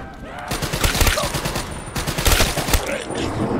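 Rapid SMG bursts crackle in a video game, dense overlapping automatic fire coming loud and close in a continuous stream with some faint background talk.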